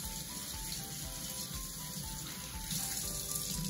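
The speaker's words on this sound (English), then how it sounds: "take some soap, some warm water, and I'm going to scrub the top of my hands, in between my hands, my fingernails" Warm tap water runs steadily into a sink while hands are scrubbed with soap, a close, continuous splashing rush with faint shifts as the hands move through the stream.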